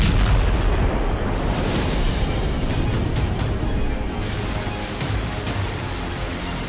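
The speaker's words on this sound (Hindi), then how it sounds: "चार जून को अमेरिका ने मिनटमैन 3 मिसाइल का पहला टेस्ट फायर किया" A Minuteman III missile test launch produces a loud, sustained rocket roar: a dense, rumbling wash of noise that holds for several seconds and tapers slightly toward the end.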